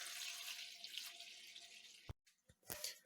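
Cold tap water runs into a basin holding a pot set in a water bath to cool homemade beer wort, a steady splashing stream that cuts off, followed by a few drips and small clinks.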